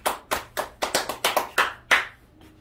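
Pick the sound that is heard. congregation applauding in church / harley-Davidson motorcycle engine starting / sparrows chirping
congregation applauding in church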